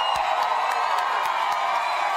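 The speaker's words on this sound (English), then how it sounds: "This crowd is out of control." A packed crowd at a CrossFit Open announcement cheers and whoops continuously, a dense roar of voices with scattered claps and sharp shouts rising over it.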